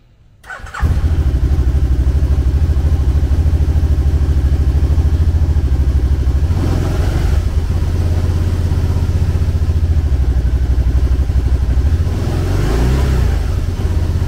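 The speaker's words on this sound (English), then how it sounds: "Powered by a 998cc V-twin engine, the Spyder puts 100 horsepower and 76 foot-pounds of torque through a 5-speed transmission." A 2010 Can-Am Spyder RT S three-wheeled trike with a 998cc V-twin engine starts and runs at a loud, steady idle with a deep rumble throughout, close up with no talk.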